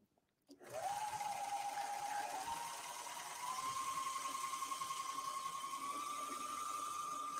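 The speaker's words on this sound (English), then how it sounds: "Now I'm just going to serge off." A three-needle serger overlock machine stitching fabric with two thread colours starts up and runs in a continuous steady whir, its pitch rising slightly as it speeds along the edge.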